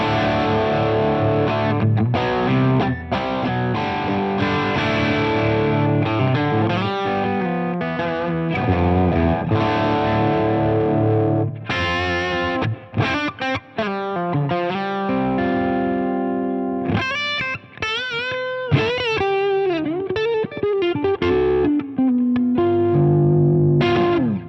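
A heavily distorted electric guitar runs through a Crazy Tube Circuits Heatseeker distortion pedal with its wall-of-sound setting engaged, playing loud sustained chords and riffs with bends and short pauses across the whole stretch, no talking.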